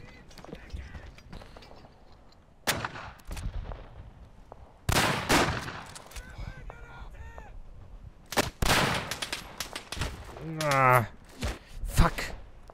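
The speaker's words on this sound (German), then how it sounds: "Das Maschinengewehr, das sieht cool aus" Machine gun fire in the trench-warfare game Verdun: several loud bursts and single shots crack out in irregular clusters, with quieter gaps between and a player talking in between.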